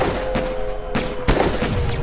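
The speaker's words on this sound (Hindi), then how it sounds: "कुछ ही सेकंड में शेखर निशाना साध कर गोली चलाता है" Gunshots ring out in a Hindi horror audio drama during a police shootout in the woods, two sharp broadband cracks about a quarter second apart over a steady tonal drone and dense background noise, with fainter earlier bursts.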